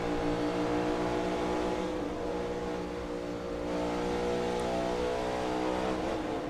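Steady, loud engine roar from inside a race car at Darlington, holding a high drone with slight dips as it revs through corners.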